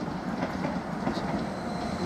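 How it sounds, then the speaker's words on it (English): A Class 745 FLIRT electric train arriving from London Liverpool Street makes a steady, fairly loud rumble of wheels and motors that continues evenly throughout with no voices. "we've got another Class 745 FLIRT unit arriving from London Liverpool Street"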